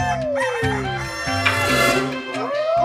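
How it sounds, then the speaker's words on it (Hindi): A pet hen clucks and a rooster crows in a loud, busy stretch, the calls layered over a steady harmonic background that nearly covers them. "अपनी मुर्गी की कुकड़ू को बंद करिए"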